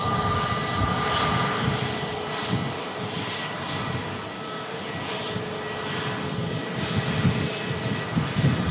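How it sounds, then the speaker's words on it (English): EasyJet airliner arriving from Belfast, a loud continuous jet engine roar with a broad rumbling wash and slight swells, heard alone without talk. "EasyJet arriving in from Belfast"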